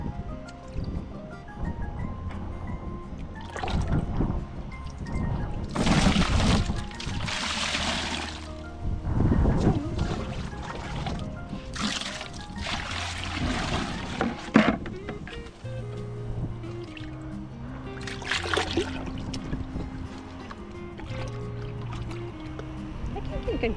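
Rainwater is poured and splashed out of a container while cleaning garage doors, coming in several noisy gushing bursts between quieter moments, with people talking throughout.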